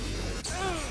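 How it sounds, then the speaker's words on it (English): A brief explosion blast in the video game Agents of Mayhem, a sharp crash-like burst followed by a whooshing, tonal tail amid busy game sound. "That explosion, dude."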